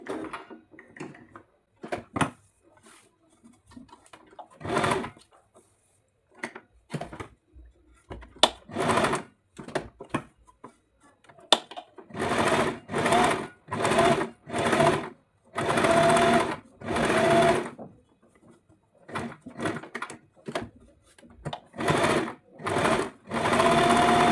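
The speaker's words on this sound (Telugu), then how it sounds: "ఇప్పుడు ఇటు సైడ్ కుట్టుకోవాలి." A sewing machine stitches a plain blouse in bursts of rapid needle clatter. Short runs come first, then longer steady stretches separated by brief pauses, close and clear.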